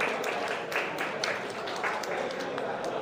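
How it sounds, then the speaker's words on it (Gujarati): Applause from the audience at a community meeting, a steady wash of many hands clapping throughout, with a voice speaking over it. "તાળીઓ તો પાડો મારા ભાઈઓ બધાય."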